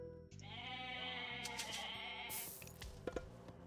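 Goats bleating amid Age of Mythology game audio, several wavering bleats layered over steady in-game music and ambient effects, with a couple of sharp clicks near the end.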